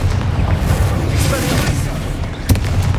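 A Confringo fire spell explodes in the Hogwarts Legacy video game, with a continuous rumbling, booming blast bed and one sharp burst near the end, loud and close amid dense game sound.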